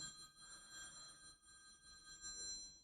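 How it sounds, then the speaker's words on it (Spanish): A telephone rings with a steady repeating electronic tone that runs through the whole stretch at a moderate level, over a faint room background with no talk. "Perdón, ha sonado el teléfono."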